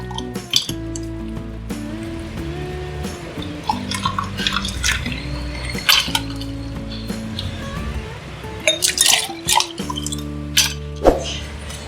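Strained falsa juice poured into a bowl of ice, with close clinks of ice against the bowl and scattered drips and splashes, louder bursts of pouring and clinking near the end.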